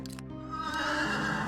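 A horse mount in the fantasy game Alaloth gives one clear, loud whinny with a rising, shaky pitch, heard alone with no talk.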